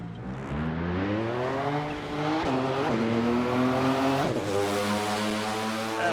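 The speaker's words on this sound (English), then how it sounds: "that's another spin. And the car is still running somehow." A rally car spins out on stage 1 of the Rally Porec event in the Eastern European Rally Championship, its engine revving loudly, dipping and climbing through gear changes as it keeps running, with tyre noise beneath.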